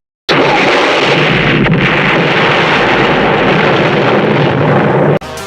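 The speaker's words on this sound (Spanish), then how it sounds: "él escapa de explosiones brutales como esta" A massive movie explosion from the Rambo films roars loudly and continuously for about five seconds, a dense wall of blast noise that cuts off abruptly.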